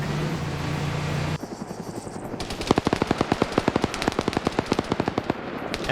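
An MT-LB armored vehicle lays down suppressive machine gun fire in a military video game, a fast, steady stream of sharp bursts that starts after a low rumble and keeps rattling at an even rhythm.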